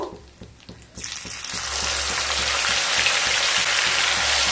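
Ground onion paste drops into hot oil and starts frying at once, a loud, steady sizzle that rises after a quiet start and keeps going close by.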